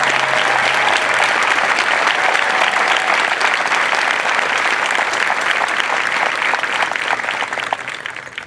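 Sustained loud applause from a large crowd for military training instructors at an Air Force basic training parade, dense continuous clapping that fades slightly toward the end.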